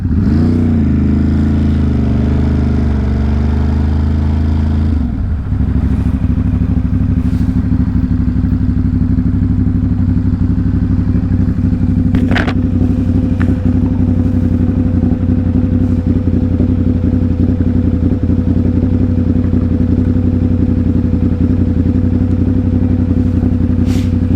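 A Ducati Monster 937 with a noisy front sprocket idles loudly, then settles into a steady close engine hum with faint clattering and ticking from the drivetrain, heard on the move in city traffic.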